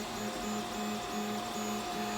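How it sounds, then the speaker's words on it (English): TiVo Michelangelo 3D printer running a test print with white filament, a steady mechanical hum with rhythmic stepper-motor tones pulsing in repeated short bursts, fairly quiet and with no voices. "There it is, my TiVo Michelangelo printer, and it's printing a test right now."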